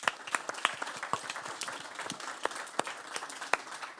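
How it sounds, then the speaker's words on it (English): Small audience giving a round of applause at a regenerative tourism event, a modest, uneven patter of individual hand claps with distinct sharp claps standing out, fairly close and moderately quiet. "Jimena Diamant, can we give her a round of applause?"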